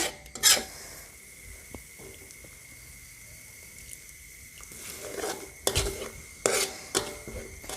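Thai curry paste fried with coconut milk added a little at a time sizzles softly over low heat in a pan, with scattered scraping stirs and a few louder clanks of utensil on metal toward the end.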